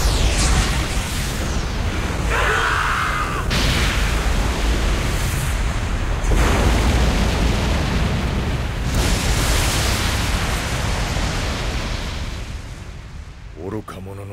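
Underwater depth charge explosions in a submarine anime: heavy, rumbling booms that swell and roll on across the whole stretch, loud and dense, gradually fading near the end.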